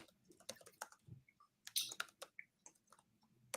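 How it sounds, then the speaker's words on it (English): Someone types on a computer keyboard in a quiet room, producing faint, irregular clicks and taps in quick little bursts with no voices. "I'm typing it up as we're speaking"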